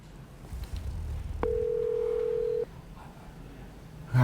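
A telephone call being placed, with a single steady ringback tone lasting about a second, then quiet, over faint room noise and brief low voices.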